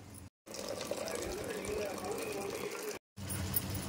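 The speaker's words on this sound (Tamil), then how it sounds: "இந்த ஸ்டேஜில் நம்ம இதை வடித்து எடுத்துக்கலாம்." Water from cooked rice being drained off while making chicken biryani, a steady pouring gush with two brief breaks, fairly close and with no talk over it.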